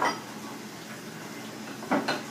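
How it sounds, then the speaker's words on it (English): Spoon stirring shredded mozzarella into a dip mixture in a batter bowl, a steady scraping and mixing with a couple of louder knocks against the bowl near the end, close and alone. "Just mix this up really good"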